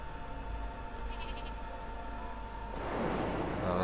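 Sheep bleating in the video game Flockers, a few thin cartoonish bleats over a steady game music bed, growing louder and busier toward the end.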